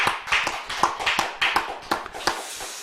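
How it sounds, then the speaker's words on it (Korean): At a Friday late-night worship and prayer service, a Korean church congregation gives a short burst of clapping, sparse and uneven, with separate sharp claps spread over about three seconds and no voices. "하나님께 우리 영광의 박수 올려드립니다"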